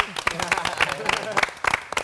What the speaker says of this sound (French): On applaudit LG quand même.